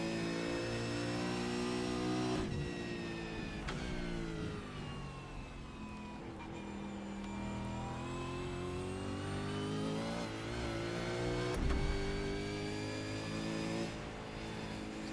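V8 Supercar engine at Bathurst in iRacing, a continuous revving drone with rising pitch through the gears and brief dips at upshifts, steady and close with no talking.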